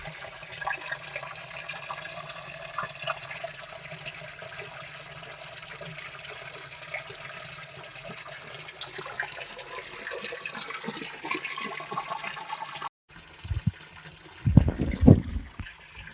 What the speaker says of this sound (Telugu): త్రీ సిక్స్టీ ఫైవ్ డేస్ ఈ వాటర్ వస్తూనే ఉంటాయి అక్కడ